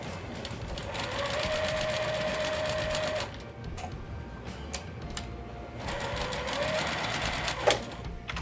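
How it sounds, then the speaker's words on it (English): Sewing machine stitching a quarter-inch seam along quilt squares for a table runner, two steady runs of rapid close mechanical stitching separated by a brief pause with small clicks. "let's just sew that 1/4-inch seam"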